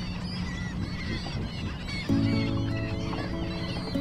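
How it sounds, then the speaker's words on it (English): Coastal seabirds call and squabble while feeding on small fish at low tide, a continuous honking, clucking chorus with a louder burst of calls in the second half. "I wanted to see what all the birds were fussing about."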